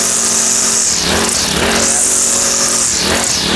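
A Harper G166 string trimmer with a tap-and-go line head revs loudly in repeated rising and falling surges, close by, as the head is bumped against the ground to feed out line.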